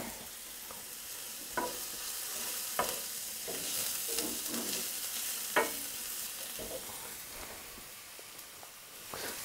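Garlic and onion sauté in a hot pan, a continuous soft sizzle broken by several sharp scraping stirs spaced a second or two apart, close and fairly quiet.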